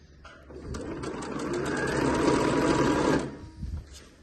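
A sewing machine stitches a ruffled festa junina skirt, its motor whirring up and running steadily for a few seconds close by, then stopping abruptly, with a few faint clicks afterward.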